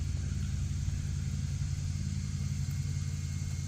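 An MJX Hyper Go H12Y RC car with a 3500 kV brushless motor gives off a low, rumbling engine-like drone that holds steady for a few seconds, close and moderately loud, with no talking.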